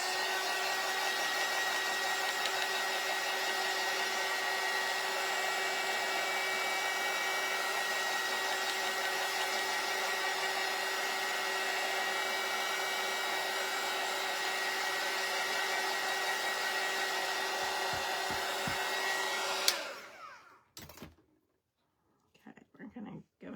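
A hair dryer runs steadily and loudly while drying paint on a craft sunflower gnome shelf sitter, a continuous blowing whir that cuts off near the end, leaving brief faint handling sounds.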